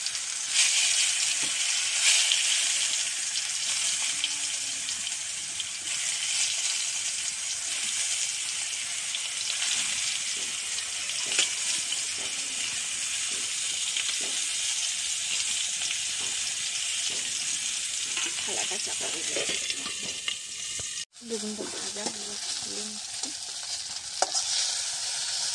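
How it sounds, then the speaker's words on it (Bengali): Potato and eggplant slices frying in hot oil give off a continuous bright sizzle, steady and fairly close, with a few scrapes and clinks of a utensil and a brief break near the end. "তেলটা গরম হয়ে আছে, আলু বেগুনগুলো ভেজে নিচ্ছি।"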